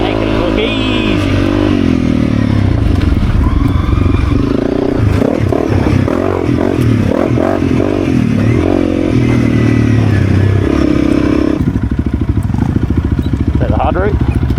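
A Honda CRF 300 dirt bike climbs over rocks, its single-cylinder engine revving and lugging in uneven bursts with clattering and scraping from the tyres, loud and close, while riders talk over it.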